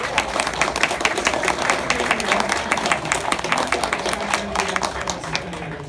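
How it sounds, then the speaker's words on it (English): Audience at a live Q&A panel at a gaming convention breaks into sustained, dense applause, loud and steady across the whole stretch with a roomful of clapping hands. "Give a round of applause for Ed Neckarun."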